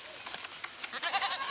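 A goat bleats in a series of short, nasal calls in a rural village setting, the cries growing louder and more insistent toward the end.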